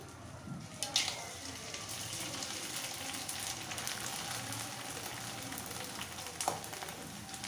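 Frying in well-heated oil while making a leafy greens dal, a continuous soft crackling sizzle close by with a couple of brief clinks, fairly quiet throughout.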